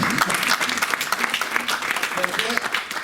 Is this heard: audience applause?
yes